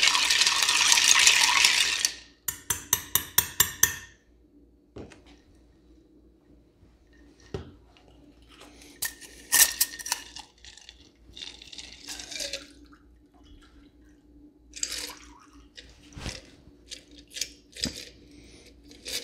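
Ice cubes clinking and rattling in a glass as a bottle-aged Manhattan cocktail is stirred, starting with a loud burst of rattling, then a rapid run of clinks, followed by scattered sharp taps and clinks in a quiet room.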